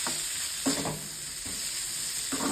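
Okra and potato sabzi sizzling in a pan under a steady high frying hiss, with periodic scraping stirs every second or so.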